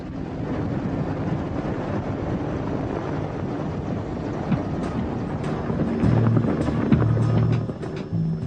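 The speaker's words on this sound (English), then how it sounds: "An Mi-24 assault helicopter captured from Iraqi troops in the Gulf War." A captured Iraqi Mi-24 Hind assault helicopter from the Gulf War makes a loud, steady rotor and engine roar with wind buffeting, building slightly louder toward the end.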